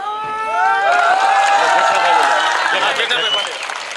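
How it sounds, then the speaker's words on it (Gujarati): Steady audience applause with cheering at a felicitation ceremony in Rajula, a dense crowd clapping loudly for about four seconds before easing off, with an announcer's voice faintly over the start. "જોરદાર તાળીઓના ગડગડાટથી વધાવીએ"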